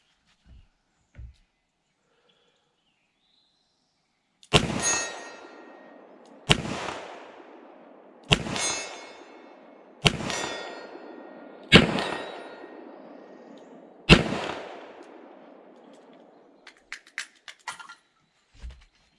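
Smith & Wesson Model 10 .38 Special revolver fired double-action at a 40-yard steel plate outdoors: six loud, evenly spaced shots with long ringing decays, followed by a few faint distant metallic pings, no talking.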